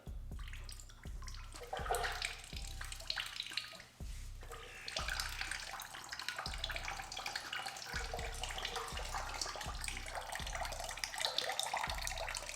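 Water poured slowly into the open radiator filler of a Kawasaki Z900 motorcycle during a coolant flush, running and splashing steadily for about twelve seconds with a low rhythmic thumping underneath, no talk.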